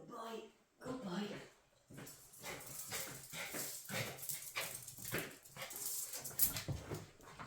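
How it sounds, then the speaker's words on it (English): A miniature Yorkshire terrier, an elderly dog, gives soft whimpers and small yips indoors, mixed with someone talking close by throughout. "This is Bronte, he's my little miniature Yorkie, and he's an old man now"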